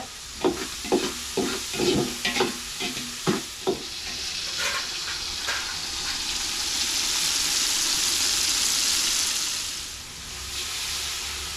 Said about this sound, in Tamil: கெண்டை குஞ்சு மீன் குழம்பு வந்து நான் தாளிச்சிக்கிட்டு இருக்கிறேன்